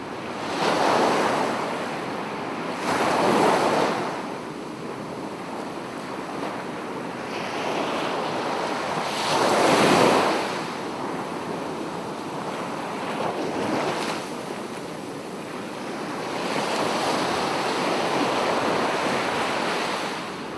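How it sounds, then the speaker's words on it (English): Ocean surf rolling in steady washes, with louder breaking waves swelling every few seconds over a constant background of wind and water, no voices. "listen to the ocean sounds in the next 30 seconds"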